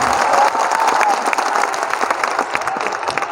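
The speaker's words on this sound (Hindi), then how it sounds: "खुद ताली बजा लो अपने हाथों से।" A large crowd at a religious gathering claps their hands in sustained, even applause with scattered sharp claps throughout, a few voices mixed in.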